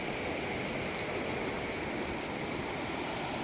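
Flooded Sutlej river water rushes past in a dense, steady roar of broadband noise, loud and continuous with no voices.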